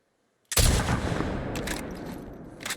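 Gunfire in The Last of Us Part II bursts in suddenly after a moment of silence, a dense, loud volley of shots that rattles on and gradually thins out.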